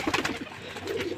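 Pigeons in a loft coo close by in soft, throaty, repeated bursts, a low murmuring rhythm that stays steady and unbroken, with no voices heard.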